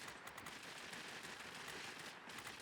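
Rapid bursts of aircraft automatic cannon fire in a video game rattle continuously under a dense, noisy roar, steady and loud throughout with no pauses.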